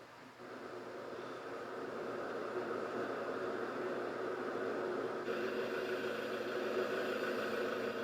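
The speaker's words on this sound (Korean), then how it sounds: "그의 오토바이 소리가 경쾌하다" A steady engine drone hums continuously at moderate volume, like a motorcycle cruising along, with no voices.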